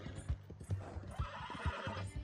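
A horse in the video game Red Dead Redemption 2 whinnies while its hooves clip-clop in a steady trotting rhythm, close and clear, with faint ambient game sound behind.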